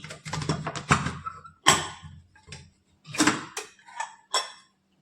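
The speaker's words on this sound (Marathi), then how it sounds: "यानंतर आता आपण झाकण उघडून बघतोय" A pressure cooker lid clanks and scrapes as it is opened after cooking kokum, sounding as a few sharp metallic knocks and rattles up close, broken by short pauses.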